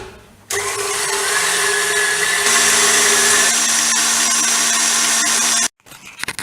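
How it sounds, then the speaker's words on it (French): A stand mixer whisks egg yolks with sugar, a steady loud high whirring motor that steps up in speed partway through, then cuts off abruptly near the end. "nous allons les fouetter jusqu'à ce que le mélange blanchisse"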